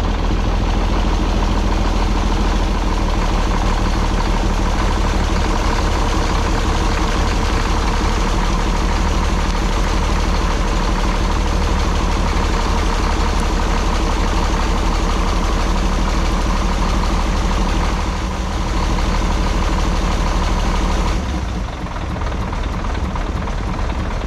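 An old CAT 977 track loader, left sitting for 37 years, runs its diesel engine in a loud, steady idle with a deep throb, holding nearly unchanged throughout before a slight dip in tone near the end.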